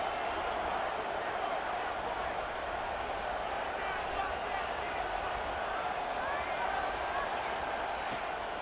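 Stadium crowd noise in EA Sports College Football 26, with a steady roar from a crowd backing Texas Tech on third down. The noise stays constant beneath the voice of a game commentator.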